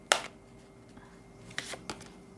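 Tarot cards being shuffled and drawn, a few short sharp riffling bursts separated by quiet pauses, close to the mic.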